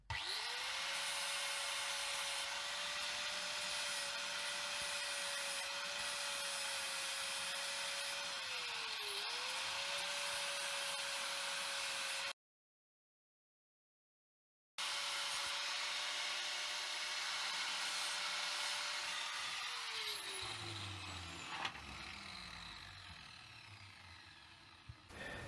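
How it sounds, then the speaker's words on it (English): An angle grinder grinds down a weld on a Mustang Fastback front end, its loud, steady high whine running continuously, briefly cutting out, then resuming and winding down as the disc spins to a stop. "So now we just need to grind that down a bit."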